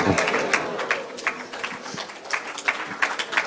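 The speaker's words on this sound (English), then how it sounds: "One more round of applause for His Holiness Bhakti Bringer Govinda Swami, everybody." Scattered clapping from a seated audience at a lecture, sparse and uneven rather than a full ovation, moderately loud with crowd murmur beneath.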